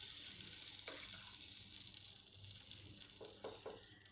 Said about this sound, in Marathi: हे ब्रेडचे तुकडे मस्तपैकी भाजून घेऊ